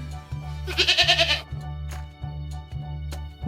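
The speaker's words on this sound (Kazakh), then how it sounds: "Ешкі мә дейді." A goat gives one loud, wavering bleat close by, followed by several soft knocks and thumps.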